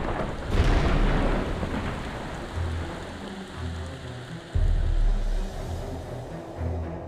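A thunderstorm rolls across the Tibetan plateau, with deep rumbling thunder in several heavy bursts over a constant hiss of falling rain.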